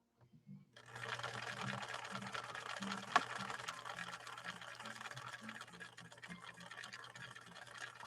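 A 1961 Viki sewing machine stitching with Sulky 40 weight embroidery thread, running as a steady fast mechanical whir and rattle for about seven seconds after a brief start, fairly quiet and close.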